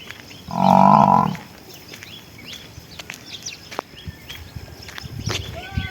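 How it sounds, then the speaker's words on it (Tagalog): A water buffalo or cow lets out one loud, close moo in a rural village, followed by quieter footsteps, bird chirps and scattered outdoor ambience. "Puro na lang puro kalabaw at saka baka."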